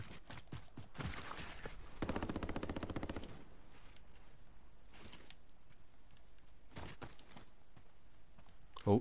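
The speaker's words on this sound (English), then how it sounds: "someone's shooting at it from here" Gunfire in a first-person shooter video game, with rapid machine-gun bursts and scattered single shots at varying distance and some clattering footsteps between, fairly quiet overall, no talking.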